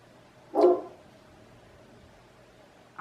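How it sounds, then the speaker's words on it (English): A single sharp dog bark nearby in a quiet room, followed by silence and the start of another bark at the very end. "if you're hearing crazy voices like that dog barking"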